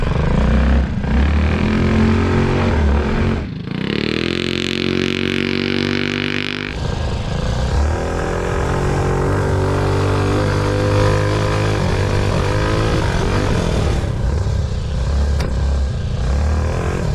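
An enduro racing mini bike on a timed hot lap runs loud and close, its engine revving up, climbing in pitch and surging through gear changes without a break.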